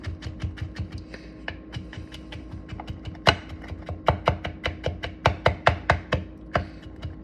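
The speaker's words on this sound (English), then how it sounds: "We just kind of put it in here, and we put it down here, and then we just continue slicing" A knife slices and minces food on a cutting board in a quick, regular run of sharp, close chops, about three per second, over a low steady background hum.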